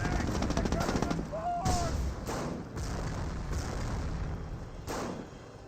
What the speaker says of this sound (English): now we got the hits there on the Panzer IV